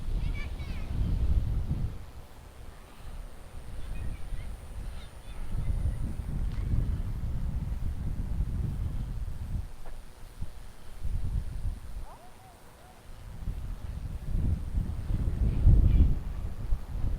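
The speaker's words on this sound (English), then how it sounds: "We get in here, get looking around a little bit, and now it decides to get windy." Wind gusts buffet the microphone outdoors at the Oklahoma City Zoo, a low, rumbling roar that swells and fades in waves with some talking mixed in.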